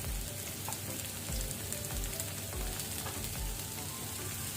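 Spring onion whites and prawns sizzle steadily in hot oil in a frying pan, a soft continuous crackling hiss with occasional stirring scrapes, no voices.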